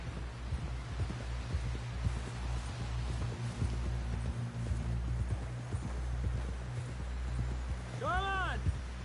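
Horse hooves pound along in Red Dead Redemption 2, a steady rhythmic clip-clop over a low rumble of ambience, with a brief rising tonal sound near the end.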